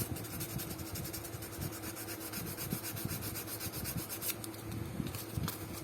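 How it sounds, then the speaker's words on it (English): Fine 600 grit sandpaper rubs steadily over the scuffed toes of a Fendi shoe, a continuous soft scratchy rasp with a low background hum throughout. "I need to sand it, all these scuffs. This is 600 grit,"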